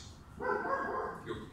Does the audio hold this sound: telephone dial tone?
no